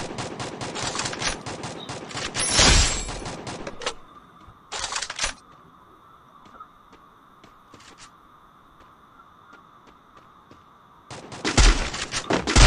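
Rapid bursts of gunfire from the video game Free Fire, with dense volleys at the start, a short burst in the middle over a faint steady game tone, and another loud volley at the end.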